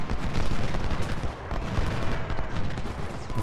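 Massed rifle volleys from Civil War infantry in the strategy game Ultimate General: Civil War, at the Battle of Cold Harbor, a dense continuous crackle of gunfire with booming low rumble, loud throughout.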